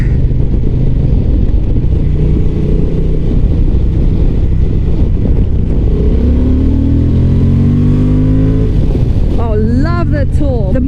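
A 2025 Honda Transalp adventure motorcycle accelerates hard to overtake a car on a winding road, its engine droning loud and rising in pitch over strong wind buffeting, with a rider talking over it.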